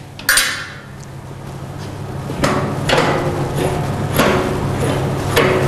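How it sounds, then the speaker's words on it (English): Metallic clanks and clicks from releasing the ratchet strap and undoing the D-ring on a pneumatic drum rotator, several sharp knocks over a steady background hum, close and loud. "release the ratchet first, undo the D-ring at the front."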